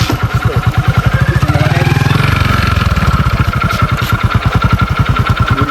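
A motorbike engine putters loudly and close up in an even, rapid train of exhaust pulses, holding a steady idle-like beat with a slight rise partway through.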